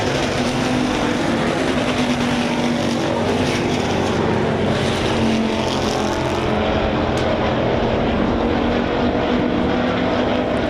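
Sport compact race cars at RPM Speedway roar in a dense, continuous wall of engine noise as the pack runs side by side, loud and close throughout with no voices.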